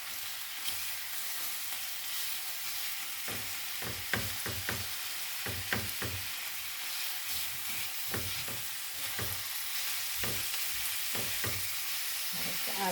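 Ground meat sizzles and crackles in a hot pan as sambusa filling cooks, a steady frying hiss with bursts of stirring scrapes, close and without speech.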